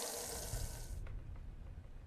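Water poured from a kettle onto plants in the video game Spirit Hunter, a steady splashing trickle that eases off partway through and leaves a softer watery rumble.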